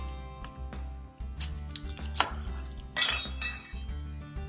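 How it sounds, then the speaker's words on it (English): Kitchen prep with an onion being halved by a knife, heard as clinks and knocks of utensils and a few short crisp cuts against a board, close and moderately loud over a steady low hum, with no talking. "I'm going to take the onion, I'm going to cut it in half"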